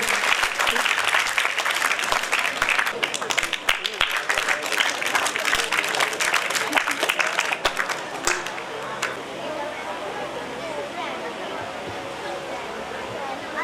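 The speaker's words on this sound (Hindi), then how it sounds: "ताली बजाए बेटा जोरदार, तालियों में कंजूसी ना करें।" An audience at a school function claps loudly and vigorously, dense rapid applause that fills the first eight seconds, then thins into scattered claps over crowd murmur and background noise.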